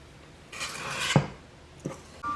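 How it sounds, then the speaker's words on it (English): A small metal cookie scoop drags and rasps through chocolate chip cookie dough in a bowl, one scraping stroke followed by a light clink and a soft tap, quiet and close. "this is just one of the small cookie scoops that I'm using"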